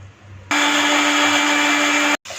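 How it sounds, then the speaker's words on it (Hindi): An electric blender grinds tomato, green chilies and water, starting abruptly into a loud, steady whirring roar at close range, cutting out briefly near the end and then starting again. "आधा कप पानी डाल के इसे अच्छे से ब्लेंड कर लेंगे।"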